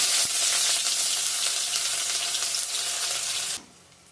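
Onion with bay leaf and dried chili frying in oil for a fish curry, a loud dense sizzle that drops off abruptly near the end to a quieter hiss, with no talking.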